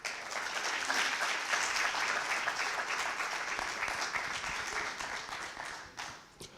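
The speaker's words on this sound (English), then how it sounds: "Big round of applause to him, ladies and gentlemen" An audience at the Pan African Conference on Illicit Financial Flows and Taxation applauds steadily, a full wash of clapping that stays fairly even before thinning out and fading near the end.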